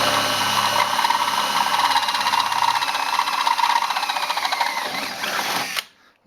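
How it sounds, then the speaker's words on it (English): A drill bores out holes for 5/16 nutserts on a Series Land Rover being fitted with a 4.3 Chevy V6, a steady close whine running several seconds before cutting off abruptly at the end. "So we have to drill those out"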